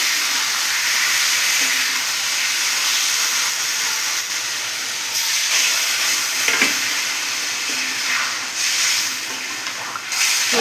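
Spice water is poured over egg masala frying in a pan for egg kalia, producing a steady, close hiss and sizzle that swells briefly in places.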